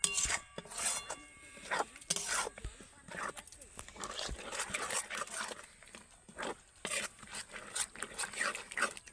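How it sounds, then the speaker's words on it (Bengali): Coriander leaf pickle with oil and spices is stirred in a pan, giving irregular scraping and rubbing strokes with short sizzling bursts, moderately close and fairly quiet. "এবার আমি খুব ভালো করে এইভাবে নাড়তে থাকবো"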